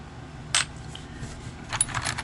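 Metal screws clinking and rattling as they are handled in a storage container, two short bright bursts of small metallic clatter, one brief and one longer, heard close and fairly quiet with no talk.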